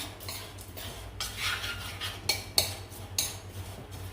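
A utensil stirring oats into an apple cinnamon crumble cake mixture in a bowl, with soft scraping and several sharper clinks against the bowl, fairly quiet and without talk.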